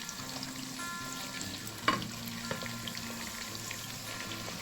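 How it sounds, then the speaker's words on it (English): Onions cook in a pot with a soft, steady sizzle close by, broken by a sharp scrape and clink of stirring near the middle and a quieter knock shortly after. "I will stir it till it's cooked for about 5 minutes."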